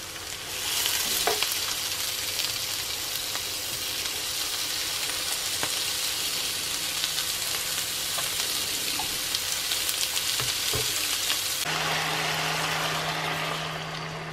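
Beef and onions for gyudon fry in a pan with a steady, loud sizzle that continues unbroken, while occasional stirring scrapes and clinks sound through it.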